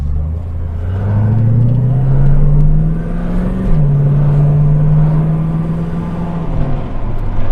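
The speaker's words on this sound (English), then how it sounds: "Pulled into the side of the road just so we can do a bit of an acceleration test." A Ford Falcon XD with a 4.9 litre V8 accelerating hard from the roadside, its loud engine drone climbing in pitch, dipping once at a gear change, then pulling steadily again.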